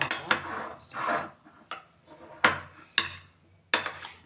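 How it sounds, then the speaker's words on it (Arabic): Cheese being stirred in a pan for a simple breakfast, a handful of distinct scraping clanks of a utensil against metal with quiet gaps between them. "اديهم بقى كده تقليبه مع بعض"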